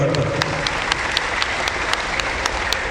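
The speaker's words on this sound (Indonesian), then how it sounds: "berikan tepuk tangan yang meriah" Lively applause from a church congregation during a sermon, loud, dense clapping that holds steady for the whole stretch, with a low hum and a few sharp claps standing out.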